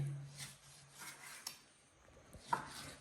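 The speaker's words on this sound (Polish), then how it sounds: "golonkę teraz tniemy na takie mniejsze kawalundziki" Knife working through a boiled pork knuckle on a board, cutting it into smaller pieces: soft intermittent scraping and rubbing strokes with a couple of sharper clicks, quiet and close, no talking.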